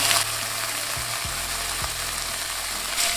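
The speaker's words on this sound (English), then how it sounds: "you want to fry up some of this beef or turkey bacon" Beef or turkey bacon frying in a pan, a steady close sizzle and crackle with a few faint low thumps of the pan, no voices.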